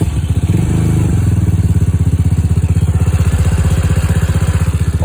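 A 2022 highway motorcycle engine fires up and settles into a loud, close, steady idle with an even rhythmic thumping pulse.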